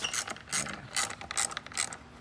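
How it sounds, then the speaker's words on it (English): An Allen key and a 10mm wrench work loose the slave cylinder bolt on an S197 clutch, a close series of quick ratcheting clicks that come in short rhythmic bursts, with no talking. "Allen key's gonna go on the outside, the 10mm on the inside, and simply gonna take it apart"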